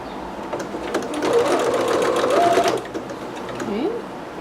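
Sewing machine backstitching a seam on a McCall's M6701 dress, a close, steady mechanical whir rising and falling over a few seconds, with a voice talking over it.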